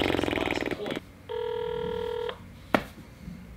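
A hotel room telephone rings once, a steady electronic warble lasting about a second, then goes quiet with no one picking up, a short click following; faint background noise and brief voice sounds frame it.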